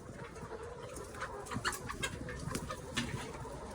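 Layer hens on a poultry farm eating feed, faint scattered clucks, coos and soft pecking scratches from many birds, steady and distant with no talk.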